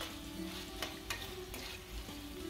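A capsicum mixture is sautéed in a pan over medium heat, giving a soft continuous sizzle with a few sharp spoon scrapes and taps against the pan, close and quiet, with no speech.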